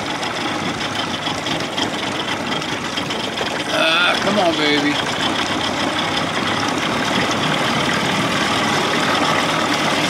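A 1979 Evinrude 55 hp outboard motor idles in neutral with a steady, loud low rumble throughout, while someone speaks briefly over it partway through.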